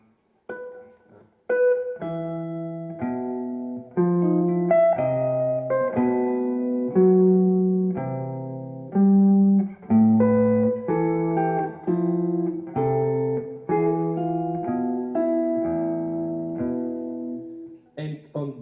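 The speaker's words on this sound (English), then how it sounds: "the so-called bass line in 2, which basically means playing 2 notes per chord." A plucked bass line moves steadily, two notes to each chord, with sustained warm tones in a walking jazz feel; no voices, close and clear.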